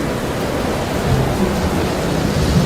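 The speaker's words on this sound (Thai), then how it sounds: "แล้วมันก็ปล่อยฝนให้ตกลงมาอย่างหนัก จนกลายเป็นพายุฝนขนาดย่อมไปทั่วบริเวณ" Heavy rainstorm with thunder: a loud, continuous wash of pouring rain with low rumbling beneath it, steady throughout and with no voices.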